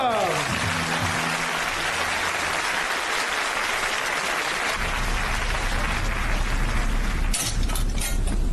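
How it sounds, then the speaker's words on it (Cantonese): Applause from wedding guests as the groom makes his entrance, dense and continuous throughout, with a low rumble and a few sharp clatters near the end. "請大家以熱烈嘅掌聲歡迎今日嘅男主角新郎出場"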